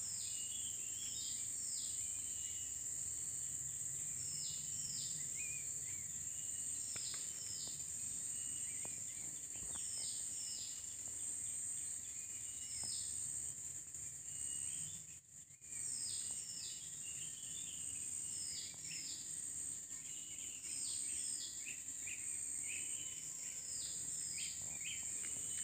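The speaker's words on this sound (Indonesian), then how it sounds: "Mari kita dengar suara kicauan burung yang masih banyak kita dengar." Small birds chirp in repeated short phrases over a constant, high-pitched drone of insects outdoors.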